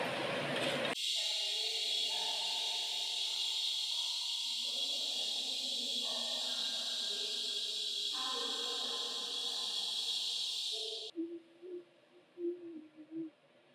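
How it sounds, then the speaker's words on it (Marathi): A pressure cooker's loud, steady hiss of escaping steam whistles for about ten seconds and then cuts off, leaving faint kitchen sounds behind. "कुकरच्या शिट्या होत आहेत"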